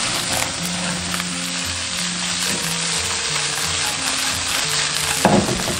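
Eel stir-fried in a wok with green and red peppers, scallion pieces and a splash of baijiu, sizzling loudly and continuously up close, with a brief clatter of stirring near the end.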